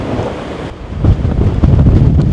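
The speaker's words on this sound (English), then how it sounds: "I really hope you can hear me with all this wind" Strong wind in Clear Creek Canyon roars and buffets the microphone in loud, continuous gusts, growing heavier and more turbulent as it goes on.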